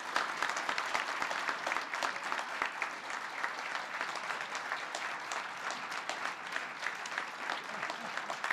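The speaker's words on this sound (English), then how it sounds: "Please give them a big round of applause." A crowd at a signing event honoring Black farmers and Native Americans breaks into sustained applause, dense even clapping that stays fairly loud and steady, heard from a slight distance.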